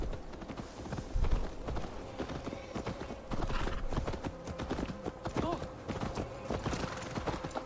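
Horse hooves clip-clop at a steady trot over a busy game soundscape in Assassin's Creed Valhalla, with a brief whinny and some muffled talk mixed in.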